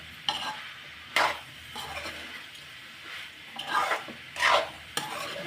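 Spices being stirred in a cooking pan: several distinct scraping strokes of a spoon against the metal, spaced irregularly over a low sizzle, close and clear with no voices.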